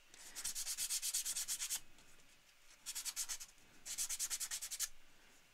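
Sandpaper rubbed over a piece of wood being prepared for pyrography, in three bursts of quick, even back-and-forth strokes, close and fairly loud, with short pauses between.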